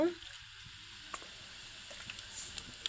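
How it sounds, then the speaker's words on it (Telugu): Chana dal frying in hot oil for a tempering gives a faint, steady sizzle with occasional soft ticks and pops, heard close but quiet. "ఆయిల్ హీట్ అయిన తర్వాత ముందుగా పచ్చిపప్పు వేసుకోవాలి"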